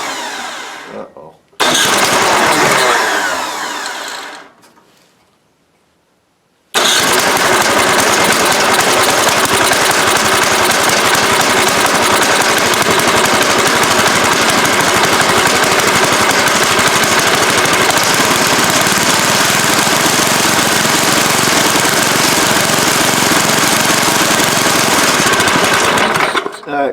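Toro 7/24 snow blower engine pulled to a start in cold weather, catching after a brief pause and then running loudly and steadily with a rough, rattling roar that holds to the end.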